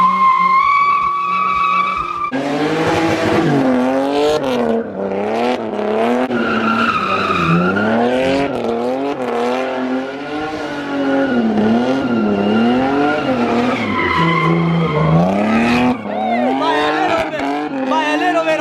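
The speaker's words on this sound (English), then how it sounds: "pretty much every car that shows up is gonna pretty much burn some rubber and get down and dirty" Cars burn rubber at a car meet, with tires squealing in long wavering whines and engines revving hard, continuous and loud for the whole stretch, with voices mixed in.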